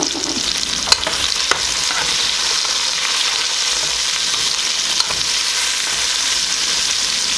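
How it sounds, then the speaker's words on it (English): Chopped onions and garlic sautéing in a pan for Jamaican rasta pasta, giving a steady close sizzle throughout, with a few sharp clicks of a utensil stirring against the pan. "onions and the garlic in at the same time. I'm gonna let those saute for about a minute"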